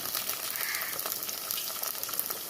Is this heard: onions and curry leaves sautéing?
yes